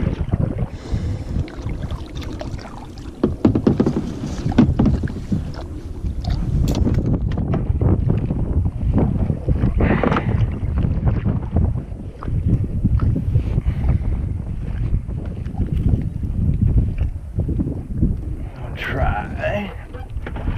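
Strong wind buffets the microphone on a bass fishing outing on open water, a low, continuous roaring rumble with gusty swells, while someone talks over it.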